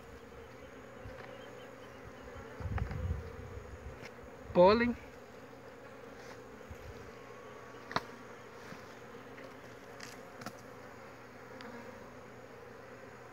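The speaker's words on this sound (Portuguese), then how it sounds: "É pouca, né, velho? Pouca abelha." Honey bees (Apis) buzzing around opened hive combs, a soft steady hum with a few louder passes near the listener, while someone speaks briefly.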